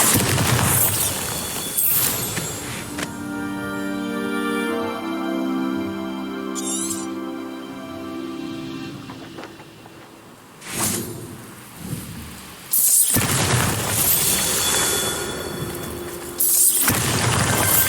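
Bombarda spell blasts in the Hogwarts Legacy video game, loud bursts of explosive rumble and crackle with whooshing debris, several separate impacts with quieter gaps between them, no voice over them.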